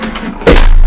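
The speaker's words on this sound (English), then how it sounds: "Oh, my keyboard fell." A computer keyboard falls and lands with one sudden, loud clattering thud, followed by a steady rumbling noise.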